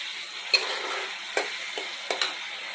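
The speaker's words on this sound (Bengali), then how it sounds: "এবারটা মশলায় তেল বেরিয়ে আসবে, টমেটোটা ভাজা হয়ে এসেছে।" Tomato and spice paste with green chillies fries in oil, giving a soft, steady sizzle broken by a few sharp scraping clicks from stirring. No one speaks.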